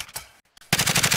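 Pistol fire in Call of Duty Warzone: two loud close shots, a brief silence, then a fast rapid string of shots fired in quick succession.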